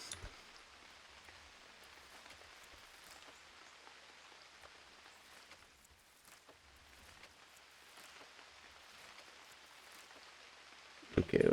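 Steady rain falls in the survival game UnReal World, a continuous soft hiss that holds evenly throughout before a brief louder thump at the very end.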